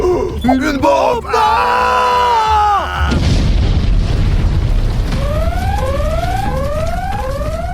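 A parcel bomb goes off with a loud, heavy boom that sweeps into a long, rumbling roar, while rising whistling tones sound over the tail and a voice is heard near the start.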